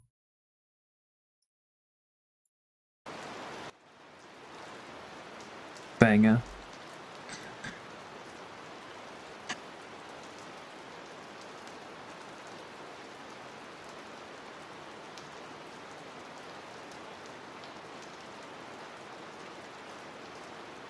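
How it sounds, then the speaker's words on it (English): Steady rain ambience from an eight-hour rain sounds track, a continuous even hiss of falling drops that runs on without change, with a brief knock and a spoken word near the start. "8 hours rain sounds."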